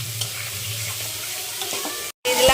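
Homemade ground spice mix is stirred into pieces frying in a pan, a steady close sizzle with scraping strokes and a brief dropout before the stirring resumes.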